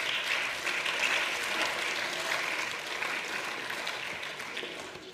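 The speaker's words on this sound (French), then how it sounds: "vous pouvez les applaudir" An audience in a parliament plenary session applauds, a dense, even burst of clapping that holds steady and then gradually thins.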